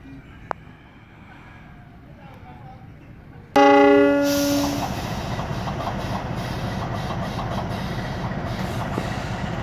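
A mixed-formation ballast train of the Daop 5 Purwokerto region departs Nagreg station in Indonesia: a loud horn blast sounds partway through, followed by a steady, close rolling rumble of wagons that continues to the end.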